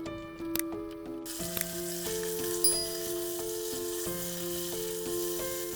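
A steady sizzle of meat frying in hot oil and butter in a pot fills the clip, constant and close, with faint clinks and tones in the background.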